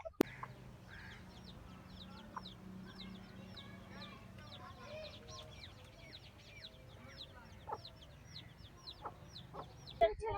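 Big Aseel chickens cluck in a village yard. Soft, repeated clucks and short calls come from several birds at a moderate distance, faint against a quiet outdoor background with occasional distant knocks.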